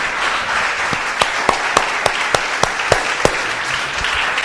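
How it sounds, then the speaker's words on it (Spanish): Church congregation at a baptism service applauds in a steady, moderately loud wash of clapping, with several sharper individual claps standing out near the front at regular intervals. "Denle un aplauso al Señor."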